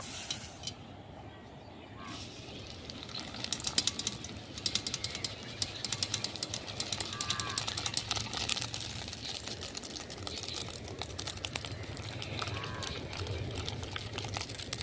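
Small-grain sago pearls fry in hot oil with a faint, steady, close crackle and sputter of fine pops that continues throughout.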